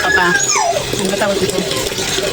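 An old dog around fifteen years old whines and yelps in distress, not wanting to be chained, with high wavering cries close by, mixed with a person talking.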